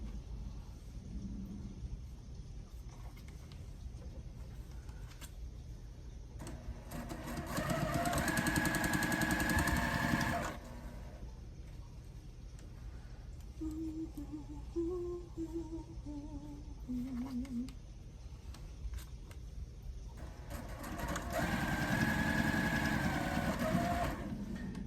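A sewing machine stitches quilt pieces together in two sustained runs of steady mechanical whirring, with a quieter stretch between them.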